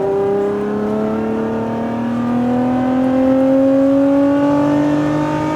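A Lotus Emira sports car on a track, its engine tone climbing steadily in pitch as it accelerates hard, loud and close throughout with a smooth rising whine.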